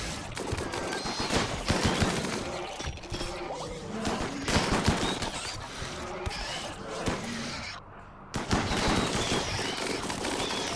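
Rapid bursts of gunfire from a RimWorld colony battle, loud and dense throughout with a brief near-silent gap, overlapping crackles suggesting several guns firing at once.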